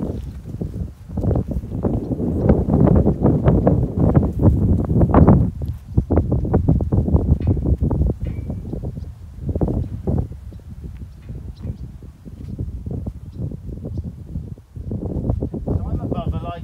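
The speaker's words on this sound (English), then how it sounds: "it's a little bit windy" Strong wind buffeting the microphone outdoors on a roadside with an abandoned horse, loud gusty rumble rising and falling under intermittent talking, with occasional hoof clops.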